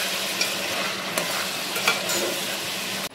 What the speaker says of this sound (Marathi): थोडासा टोमॅटो टाकणार आहोत आणि 2-3 मिनिटं परतून घ्यायचं